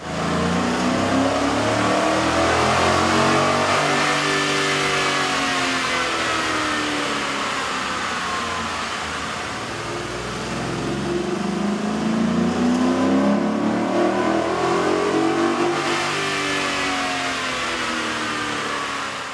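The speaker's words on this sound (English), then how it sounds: "we ran the vehicle on the dyno to test the sound comparison versus the stock intake" A loud 2011-2013 Ford F-150 engine with a K&N 63-2581 cold-air intake revs steadily under load on a dyno, its pitch climbing and dipping in long sweeps over about twenty seconds, with no talking.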